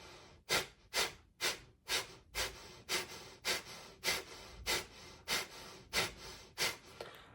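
A breathing exercise with a passive inhale, a sequence of about thirteen forceful rhythmic nasal exhales, close and loud, each followed by a quieter drawn-in breath, evenly paced about every half second.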